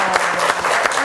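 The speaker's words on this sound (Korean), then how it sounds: "아우 박수 한번 부탁드리겠습니다" A studio audience on a Korean morning talk show claps in a brief, dense burst of applause, heard close and fairly loud, with no talk over it.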